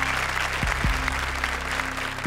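Loud, steady applause from a studio audience at an Indian TV comedy competition show, sustained throughout with a low musical hum beneath.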